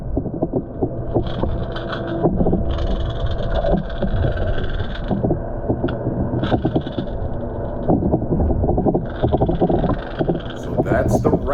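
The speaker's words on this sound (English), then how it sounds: "just let you hear the audio of the Bill Lewis Rattle Trap as it goes by the camera" A Bill Lewis Rattle Trap lipless crankbait rattles underwater as it passes a submerged camera, a fast bright clatter rising and falling over a steady low engine-like hum, with someone talking throughout.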